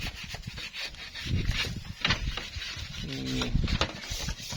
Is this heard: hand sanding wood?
yes